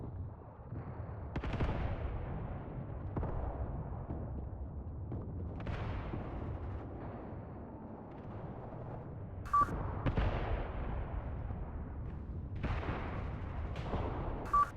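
Enemy mortars fire across a World War II battlefield in the game Mius Front, a series of muffled distant thumps and booms spaced a few seconds apart over a low rumbling ambience.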